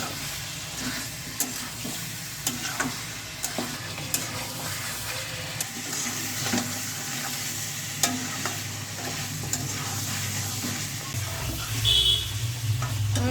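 Mutton sautéed with salt in a pan, giving a continuous loud sizzle and hiss, with sharp spatula scrapes and clicks at irregular intervals throughout, nearby and with no voices.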